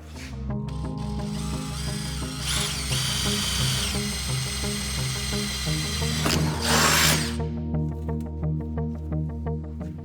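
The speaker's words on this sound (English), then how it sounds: "I'll just match drill through that" A power drill whines steadily as it bores through stainless steel on a RANS S-21 aircraft parking brake, its pitch shifting as the bit bites in, with brief bursts of higher grinding.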